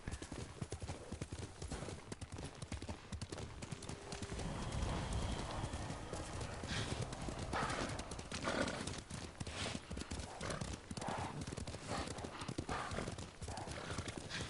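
A horse gallops in the Ghost of Tsushima video game, with rapid rhythmic hoofbeats, a whinny, and in-game voices talking over it.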